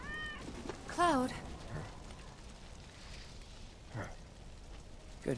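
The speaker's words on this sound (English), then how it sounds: "Good kitty." A single short cat meow sounds about a second in, fairly close and clear, in the video game Final Fantasy VII Remake, followed by quiet game ambience with a couple of soft thumps.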